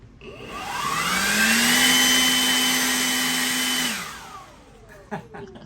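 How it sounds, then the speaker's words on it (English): A loud air blower spins up with a rising whine, roars steadily for a few seconds, then winds down, followed by faint clattering. "it kind of sounds like a big massive vacuum, but it does blow a lot of air"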